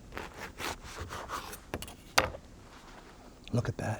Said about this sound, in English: take your knife, fold it over, cut your sandwich